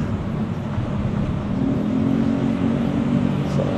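Steady engine and road drone from inside a Toyota GR Yaris being driven, a continuous close rumble that holds at a constant level throughout.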